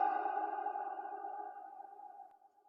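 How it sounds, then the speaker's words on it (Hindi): A sustained voice tone rings and slowly fades inside an ancient man-made cave, its echo lingering with a steady, reverberant hum that gradually weakens. "आवाज बिल्कुल गूंजते हुए नजर आ रही है"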